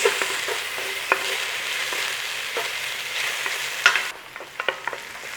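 Onions fry to a light golden in a pan for coconut chicken curry, a close, even sizzle with scattered utensil clicks; the hiss drops away near the end, leaving a few sharp taps and scrapes.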